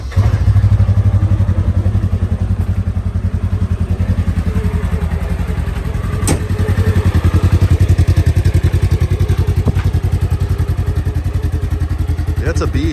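A 2024 Polaris RZR 1000 engine runs at a steady, loud, close-up idle with a rapid, even pulsing throb and some clattering, with a person talking over it.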